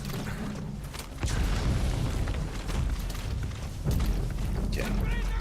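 Grenade blasts in the stealth video game Metal Gear Solid V: The Phantom Pain, two heavy booms about three seconds apart over a constant rumbling in-game din.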